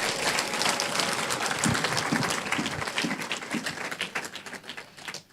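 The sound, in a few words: audience applause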